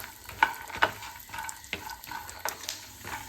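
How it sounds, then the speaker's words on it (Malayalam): Peanuts fry in hot oil with a soft sizzle, broken by scattered crackles and a few sharper pops, fairly quiet and close. "എണ്ണ ചൂടായിണ്ട് നമുക്ക് കപ്പലണ്ടി ഇട്ടിട്ട് വറുത്തെടുക്കാം"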